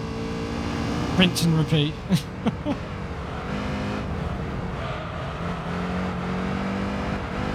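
Race car engines from a GT40 and a Pagani in Gran Turismo 3 drone and whine steadily throughout, with a few brief sharp bursts early on, while someone talks over them.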